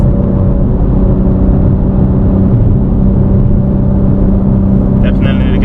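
An untuned BMW G80 M3 Competition with a mid pipe and downpipe drones loudly from inside the car, a steady deep engine rumble held throughout with a brief higher rasp near the end.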